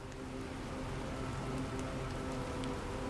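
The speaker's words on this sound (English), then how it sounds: "But hey, it's nice that it's raining." Steady rain falls in the Planet Crafter video game on a moon, a soft, even hiss of drops that holds unbroken for the whole stretch with no voices over it.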